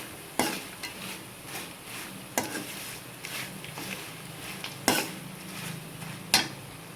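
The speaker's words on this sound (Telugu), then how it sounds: "కారం వేసిన తర్వాత ఒక 10 నిమిషాలు సిమ్లో ఉంచి దగ్గరే ఉండి తిప్పండి" An ivy gourd, garlic and chili fry stirred in a pan over low heat: a quiet background sizzle broken by a handful of crisp spatula scrapes and taps against the pan at irregular intervals, close and moderately loud.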